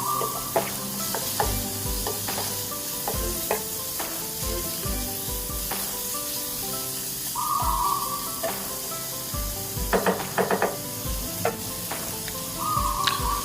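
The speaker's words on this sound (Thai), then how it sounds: "ตรงนี้ก็ผัดให้หมูของเราเริ่มสุก" Pork belly sizzles and hisses steadily in a hot pan, stir-fried with ginger, with repeated scraping and clanking of a spatula stirring it.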